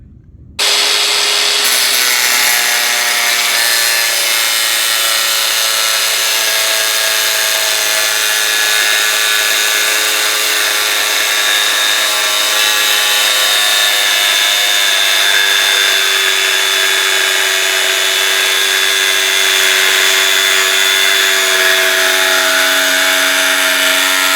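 A saw cuts steadily through a thick piece of steel rebar, a loud continuous grinding, rasping whine with steady tonal bands that holds unbroken for over twenty seconds with no talking.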